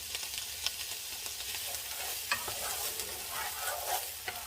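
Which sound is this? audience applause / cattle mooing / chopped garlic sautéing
chopped garlic sautéing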